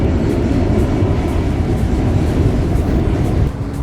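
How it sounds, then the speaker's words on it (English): A subway train rumbles past on an elevated line beside Citi Field in New York, a steady loud low roar with rattling that fills the whole stretch before easing slightly near the end. "You just use that subway line, the one that's making all the noise over there."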